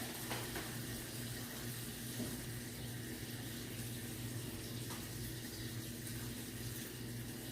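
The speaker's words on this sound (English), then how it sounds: "1 3/4 cups of water." Water poured steadily into a pot for a vegetable and steak curry, a continuous close rushing pour with no talk over it.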